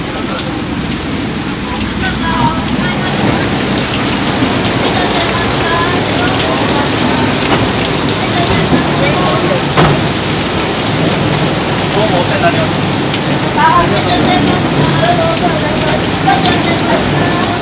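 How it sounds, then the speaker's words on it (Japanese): Heavy rain pours steadily during a sightseeing boat cruise on Lake Shinji in Matsue, Shimane, a dense unbroken hiss of downpour filling the whole stretch without a break. "大雨タイムでお願いします"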